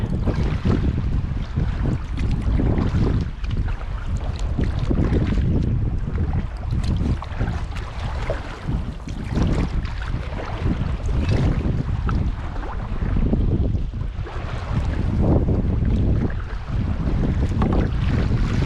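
Steady wind roars across the microphone while a canoe is paddled on a lake, a dense rushing noise that gusts and buffets throughout, with faint water sounds under it and no voices.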